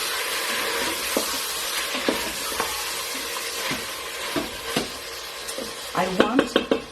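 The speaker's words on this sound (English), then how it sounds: "And I'm going to mix my meat again." Beef stew meat browning in a pot for Greek giouvetsi, with tomato paste mixed in, gives a steady close sizzle broken by several scraping stirs and a quick flurry of spoon clatter near the end.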